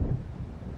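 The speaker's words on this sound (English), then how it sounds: "It seems there's a storm coming." Low rumble of distant thunder as a storm approaches in the video game Alan Wake, a brief, steady growl with no voices.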